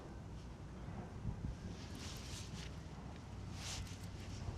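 Erratic wind gusts buffet the microphone on the water while fishing, a steady low rumble with brief swells of hiss, no voices.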